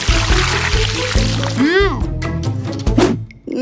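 Water is poured onto a newly planted seed, giving a brief splashing pour that fades after a couple of seconds. Voices talk loudly over it.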